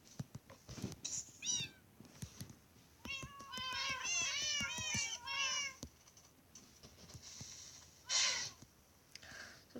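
Cats in the Minecraft Pocket Edition video game meow repeatedly. Short separate mews are followed by a dense cluster of overlapping meows, then more scattered calls, with soft clicks and taps between them.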